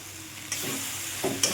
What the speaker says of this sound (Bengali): লঙ্কা গুঁড়োটা ভালো করে মিশিয়ে নেব।